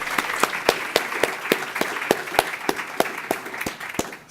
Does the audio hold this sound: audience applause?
yes